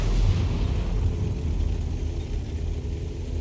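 An M53/M55 self-propelled artillery gun on the Malinovka battlefield fires with a deep boom at the start, followed by a low rumble that slowly fades.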